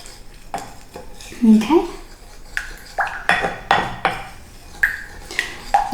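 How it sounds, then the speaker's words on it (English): Raw Ferrero Rocher ball mixture being stirred in a bowl, with a spoon clinking and scraping against the dish in a series of close, fairly loud strokes while a person speaks briefly. "make sure you give it a good mix"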